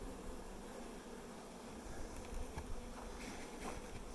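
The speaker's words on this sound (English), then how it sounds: "These are some good ass bees." Bees buzzing around a row of beehives, a continuous soft, dense hum of many insects with occasional closer passes, no talk.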